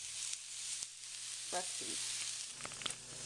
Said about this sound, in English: In my frying pan, I'm sauteing up my vegetables.